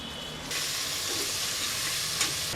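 Chopped tomato drops into hot oil with onions and ginger-garlic paste for a goat head curry. A sudden, steady sizzle starts after a brief quiet moment and continues close by with a soft stirring scrape.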